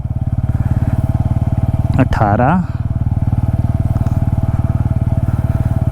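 A Bajaj Pulsar N160 motorcycle cruises in third gear with a steady, close engine drone and a brief louder surge partway through, continuous throughout.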